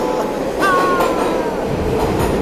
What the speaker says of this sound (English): Downtown train coming. Here it comes.